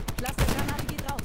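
Cluster grenade explosions and rapid gunfire from Call of Duty Black Ops 4 come in quick repeated bursts, with one heavier blast in the middle of the short, dense stretch.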